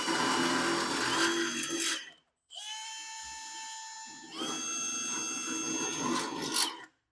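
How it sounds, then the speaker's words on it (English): A drill bores out the spot weld holes in a metal Skilsaw 77 toolbox during a refurbishment, giving a grinding, rasping whine in three close bursts, the middle burst a sustained tonal squeal. "Now I'm going to re-drill these spot weld holes."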